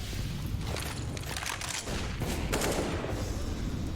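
Gunfire and a grenade blast in a professional Counter-Strike match between Navi and Astralis, dense rattling shots with a heavier burst mid-clip, no voices.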